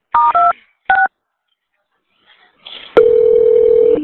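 A telephone is dialed to reach emergency fire rescue: a few short keypad tones in quick bursts, a pause, then a long steady ringback tone on the line.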